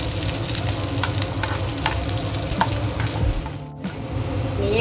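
Whole cinnamon, coriander seeds and chillies roast in a dry pan, producing a continuous close sizzle and rattle with stirring scrapes, briefly dipping quieter near the end.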